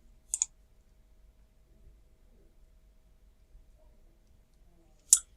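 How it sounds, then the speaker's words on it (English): A computer mouse clicks on a search button: two sharp, isolated clicks a few seconds apart in an otherwise quiet room. "So let's click search."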